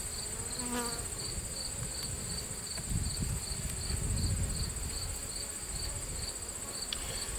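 Honeybees hum around an open hive in September, a steady close insect buzz over quiet outdoor background with faint rustling, no voices.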